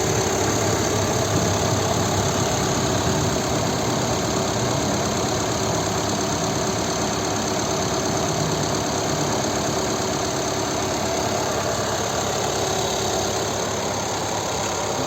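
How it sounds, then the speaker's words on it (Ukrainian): A 2011 VW Touran 2.0 TDI diesel engine (103 kW) idles steadily and evenly at close range, a low continuous rumble with a faint mechanical rattle and no voices. "Дуже класно рівно і тихо працює двигун."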